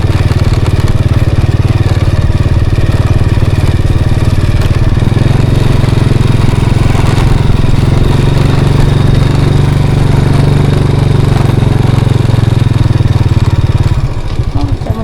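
A motorcycle ridden one-handed runs with a loud, steady mid-pitched engine drone that continues throughout and drops away near the end, with rough wind and road noise layered on top.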